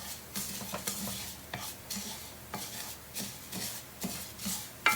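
Rice and vegetables stirred briskly in a pan for a rice casserole, a spoon scraping and tossing in rhythmic strokes about once a second over a faint sizzle, close and clear with no talking.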